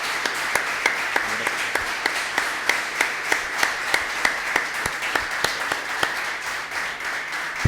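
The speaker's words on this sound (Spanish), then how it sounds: "don Tomás se merece un fuerte aplauso a todos nosotros por esta explicación" Audience at a heritage protection conference applauds a speaker, a steady run of sharp, regular claps sounding moderately near and continuing evenly for several seconds with faint murmuring underneath.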